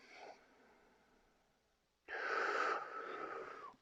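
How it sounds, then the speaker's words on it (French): A slow, deep breath drawn in during a calm guided anxiety-relief exercise, a soft airy inhale followed after a pause by a louder, fuller breath, close and alone without talk. "d'observer en prenant une grande inspiration"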